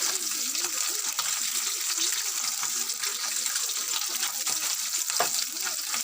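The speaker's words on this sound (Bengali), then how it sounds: "এদিকে বাকি মাছগুলো ভেজে নিচ্ছি কড়াই তেল দিয়ে দেবো" Oil sizzles steadily as fish fries in a wok, with occasional scraping and stirring sounds, while a voice murmurs faintly in the background.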